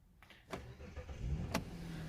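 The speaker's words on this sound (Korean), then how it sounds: "이렇게 돌려서 시동을 키시는 겁니다" A 2011 Kia K7 with an LPI engine is started with a conventional key: sharp clicks, then a brief cranking and the engine catching into a low, steady idle, heard from inside the car.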